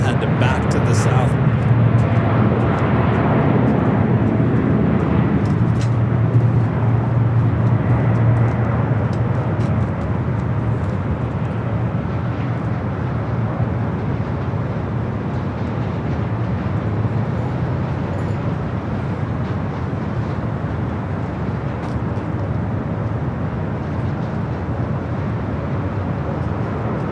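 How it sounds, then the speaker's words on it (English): An Airbus A380 approaching runway 24 left at LAX, a broad steady jet roar that is loudest early and slowly fades as the aircraft moves on, with a commentator talking over it throughout. "the A380 getting closer to 24 left and back to the south"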